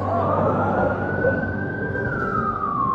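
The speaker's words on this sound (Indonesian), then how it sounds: "Oh, bukan pakai ambulan, pakai sirine." A wailing vehicle siren sounds close and loud, its tone rising slowly and then falling in one long sweep over low road rumble.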